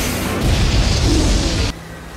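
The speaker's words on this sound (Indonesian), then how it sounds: "ditembak dengan torpedo oleh kapal itu" A torpedo fired from a boat explodes in one loud, sustained rumbling boom that cuts off abruptly near the end, with no voices.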